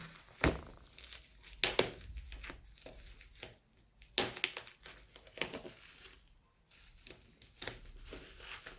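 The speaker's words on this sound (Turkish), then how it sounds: "baloncuklu kağıdımızı iyice yırtalım." Bubble wrap packaging around a boxed Rampage X-Frame AD-RX34 laptop cooler being torn and crinkled by hand, in repeated close crackling bursts and rustles with short pauses between them.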